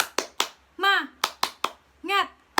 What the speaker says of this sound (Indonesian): marilah bersama-sama kita tepuk semangat dulu ya